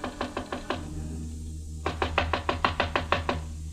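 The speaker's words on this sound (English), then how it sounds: "I knocked on Jan Svenson's door." Someone knocks on a hotel room door in a radio drama: a quick run of five sharp raps, a brief pause, then a longer burst of about nine knocks, close and crisp over a low hum.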